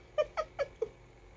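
Four short, close cat meows in steady succession, each a clear rising-falling cry, with quiet background between them.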